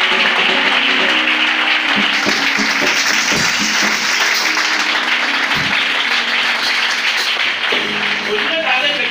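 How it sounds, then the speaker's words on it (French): Church congregation applauding and cheering at a morning service, a dense steady roar of clapping that fills the whole stretch, with voices mixed into the crowd noise. "Est-ce que tu peux encore acclamer le Seigneur?"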